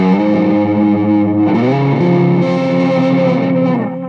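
A sustained distorted electric guitar chord rings out loudly through an MXR Carbon Copy delay pedal with modulation on, its tone wavering and shimmering as the notes shift and repeat.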